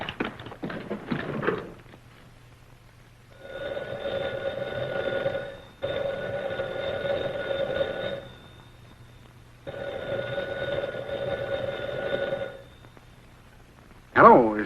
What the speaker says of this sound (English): It rang, and I took off the receiver unthinkingly